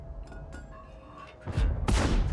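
Tank cannon fire in World of Tanks from a ShPTK-TVP 100, quiet engine rumble followed by a loud booming shot about halfway through and a second heavy blast near the end.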